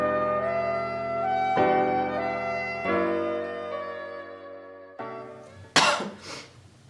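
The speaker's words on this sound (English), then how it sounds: "Please excuse if I'm coughing a little bit." Sustained tonal notes give way to one sharp cough near the end, close and fairly loud against the quieter background.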